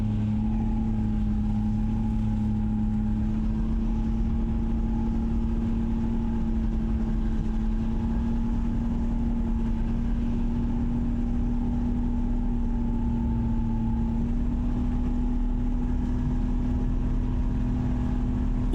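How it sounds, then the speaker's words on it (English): A monster truck engine drones steadily close by as it drives across a large field, a constant low rumble with a faint higher whine and no speech. "Just listen to that engine roar."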